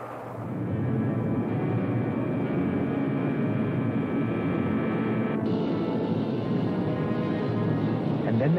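In an old science fiction film, a rocket's blastoff roar swells in and then holds as a broad, steady rumble with a faint high whine over it, continuing to the end.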